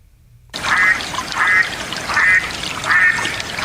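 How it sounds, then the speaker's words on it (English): Mallard ducks quack four times in an even series, loud and close, over a steady watery wash in the background. "I am looking for a specific type of duck. Quacking mallards."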